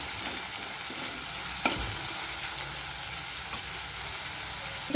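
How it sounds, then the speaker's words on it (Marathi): Chopped tomato sautés in a spiced tempering for a moong dal amti, giving a constant gentle sizzle with stirring and a few soft knocks of the spoon against the pan. No voices are heard. "हे पहा इथं हा टोमॅटो छान असा आपल्याला परतून घ्यायचा आहे टोमॅटो मऊ होईपर्यंत आपल्याला ही फोडणी जी आहे ही परतून घ्यायची"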